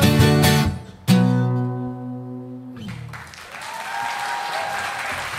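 A live concert audience applauds after a song: the band's sustained final chord rings out over the first few seconds, then dense, steady clapping fills the room and carries on to the end.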